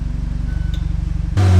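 A VW Golf R exhaust burbles at a rhythmic idle, then blares into a loud, sustained rev when race mode is switched on near the end.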